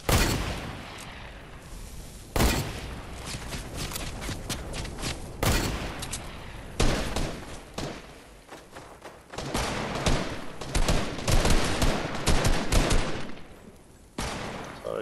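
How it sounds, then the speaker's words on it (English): Repeated gunfire from a hillside during a Fortnite match, loud, sharp shots in irregular bursts and rapid volleys across the whole stretch, with a few brief pauses between exchanges. "Somebody shooting me up from the hill?"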